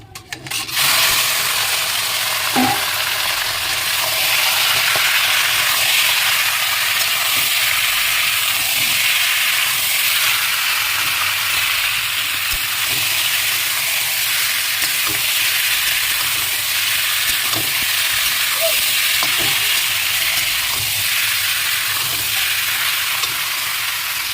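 Duck meat coated in turmeric and salt fries in a pan in a village kitchen, giving a loud, steady sizzle that runs unbroken with faint scraping ticks.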